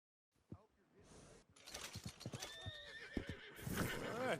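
A horse in the Red Dead Redemption 2 video game neighs loudly, with whinnying pitch sweeps, while hooves clip-clop and mixed game sounds swell behind it; faint speech may sit underneath.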